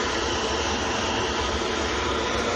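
A Ryanair airliner at Manchester Airport gives a loud, steady engine roar with no breaks, heard continuously throughout.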